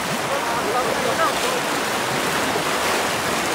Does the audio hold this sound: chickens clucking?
no